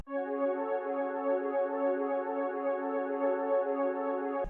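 A dark ambient synth melody built in FL Studio and played back at double speed: a steady, sustained tonal pad with rich layered harmonics holding for several seconds, with no voices.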